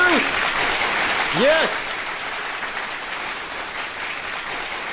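An audience applauding at a dating advice talk, a steady wash of clapping that gradually thins out while a voice speaks over it.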